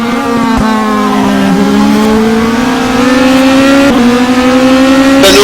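Race cars at the Brno circuit, one trying to overtake another, a loud close engine drone rising steadily in pitch with brief shifts, continuous and dominant with no talk.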